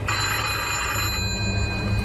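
A telephone ringing steadily throughout, a bright electronic ring over a low rumbling background hum, with no talking.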